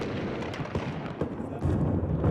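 Rapid booming bursts crackle and thud in quick succession, a dense barrage of fireworks exploding at moderate distance before the Frontier Hotel casino demolition in Las Vegas, with a heavier surge near the end.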